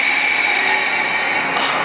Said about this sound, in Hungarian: Végre megállt ez a vonat.